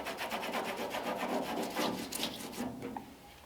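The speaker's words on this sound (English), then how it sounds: "if you rub really hard with the rag at this point, because it's still a little not fully dried, you can kind of take some of the black off" A rag rubs hard over still-tacky black paint on a 1932 Ford coupe, making a steady, close scrubbing rasp of quick repeated strokes that fades slightly near the end, with no talk.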